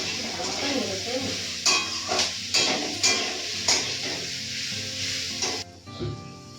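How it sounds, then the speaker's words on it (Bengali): Vegetables with cashews and raisins being stirred and fried in a pan with little oil, a steady sizzle broken by rhythmic scraping strokes of a spatula. "কাজু আর কিশমিশ দিয়ে সবজি ভালো মতন নেড়ে নিই।"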